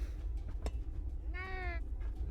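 A single short, clear cat meow from a cat in Minecraft Bedrock, heard near and fairly quiet, preceded by a soft click.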